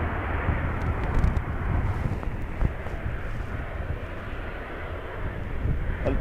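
A Ryanair Boeing 737 MAX with LEAP engines at Dublin Airport in blustery crosswinds, a loud, broad, continuous jet roar with wind buffeting the microphone, steady throughout.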